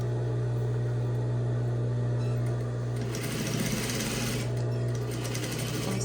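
A sewing machine stitches a tote bag, a steady close motor hum with rapid needle rattling that grows louder and busier midway through, running continuously without pause.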